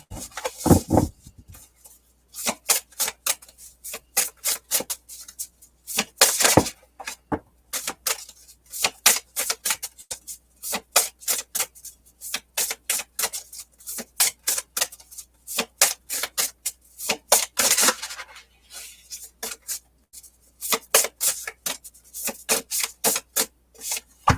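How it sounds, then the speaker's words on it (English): A deck of oracle cards is shuffled by hand in repeated quick riffling bursts, crisp close-up card flicks and slides coming in clustered rhythmic runs with short pauses between, no talking. "Give these a good shuffle."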